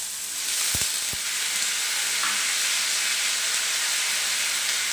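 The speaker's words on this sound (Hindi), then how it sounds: "अब इसमें मैं ताजे हरे मटर वो भी डाल दूंगी" Fresh green peas tumble into a hot frying pan with a couple of quick thumps, followed by a loud, steady sizzle and hiss of frying that carries on without letup, no voices over it.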